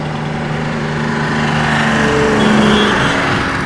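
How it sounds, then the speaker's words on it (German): Tractor engine running steady and close, passed while riding a Simson moped, with a droning low hum and a slight swell in loudness midway; no talk. "Schöner Trecker."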